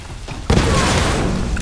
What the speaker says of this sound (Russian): Или это просто взрыв?